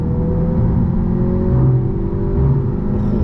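A 2021 Audi TT 45 TFSI Quattro S-Line accelerates on an open road, its engine droning loudly and steadily with a rising whir, heard from inside the car with no one speaking.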